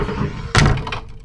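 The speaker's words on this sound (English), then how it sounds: "and the door closed itself from the inside" A door closes by itself with a single sharp thunk, a heavy near impact that rings briefly, set against a dark low ambient drone in a horror narration.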